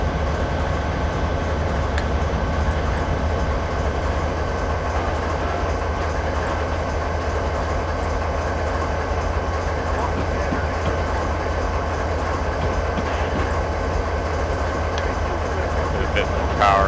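A train in Train Simulator 2013 drones steadily with a continuous low engine and rail rumble, while someone talks over it throughout.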